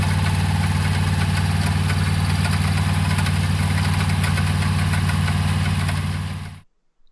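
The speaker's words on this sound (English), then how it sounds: "I was driving my '66 Mustang GT350, having the time of my life" A 1966 Shelby GT350 Mustang race car engine runs at a steady, loud, close idle with a deep, even rumble and a slight knock, continuing for about six seconds before cutting off abruptly into silence.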